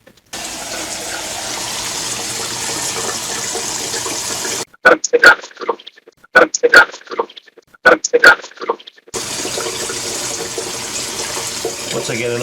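Water runs from a tap into a tank in a steady, fairly loud rush, then stops for a few seconds while a person talks, then resumes and continues evenly.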